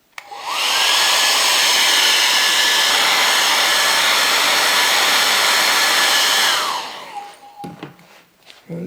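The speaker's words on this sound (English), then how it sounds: "I can stop the process with my hairdryer." A hairdryer blows steadily on wet watercolour paint scattered with salt, a loud continuous whir lasting several seconds before it switches off and quieter handling noises follow.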